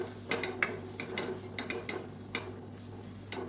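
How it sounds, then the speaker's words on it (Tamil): Chili powder sautéed in oil in a pan for an empty salna side dish, with light crackling sizzle and repeated scraping clicks of a spoon stirring, close and moderate, no talking. "இது வந்து எண்ணெயில் நல்லா பரட்டி விட்டுக்கணும்"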